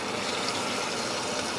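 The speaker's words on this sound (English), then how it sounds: "And I'm going to add 400 ml of water for now" Water pours steadily into a pressure cooker of spiced vegetables for pav bhaji, a continuous close rushing splash with no voices over it.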